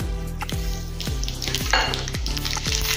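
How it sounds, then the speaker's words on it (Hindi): Mustard seeds crackle and pop in hot sizzling oil, a close, steady fry with sharp spatters over a low, regular throbbing hum. "तेल गरम हो गया है। अभी हम राई डालेंगे"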